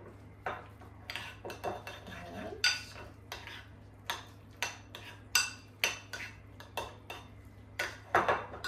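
A spoon clanks and scrapes against a large bowl as keto chicken salad is mixed, with a steady rhythm of sharp clinks roughly every half second over a low hum.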